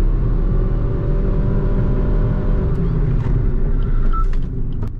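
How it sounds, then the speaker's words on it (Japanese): A Suzuki Swift, the standard non-Sport model, front-wheel drive, driving through a tunnel during an emergency braking test: a loud, steady engine and road rumble fills the whole stretch, echoing in the enclosed space, easing slightly near the end. "急ブレーキテストをします。"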